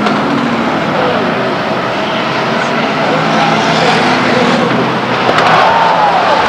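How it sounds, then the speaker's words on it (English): Race cars roaring around a speedway oval during a crash between two cars, a loud continuous engine drone throughout with a public-address announcer talking over it. "The 65 car and 42 car collide."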